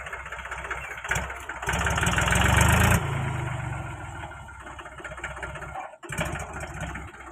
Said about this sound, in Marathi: शंभूचे पप्पा चालले ट्रॅक्टरवर